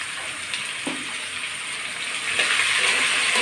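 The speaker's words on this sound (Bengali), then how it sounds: "আমি নাড়াচাড়া করে লাল লাল করে ভেজে নেবো ভালো করে।" Drumstick leaves curry, seasoned with salt and turmeric, frying and being stirred in a pan: a continuous bright sizzle with occasional spatula scrapes and knocks, close up and with no talking.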